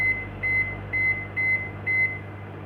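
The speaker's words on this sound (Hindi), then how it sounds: "ये माइक्रोवेव चल रहा है।" An IFB 17-liter grill microwave oven, model 17PG3S, hums steadily while running and gives five evenly spaced, clear electronic beeps over its low drone.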